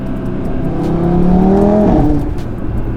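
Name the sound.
Audi RS3 engine revving with catless downpipe exhaust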